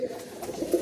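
Pigeons of a medium-sized Punjabi flying breed coo softly in a Delhi loft, a low murmuring warble rising and falling in a brief continuous stretch.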